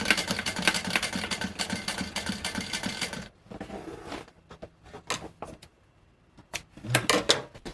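A sewing machine stitching the seams of a leather backpack, with a rapid mechanical chatter in running bursts, a pause with softer clicks and handling, then another burst of stitching.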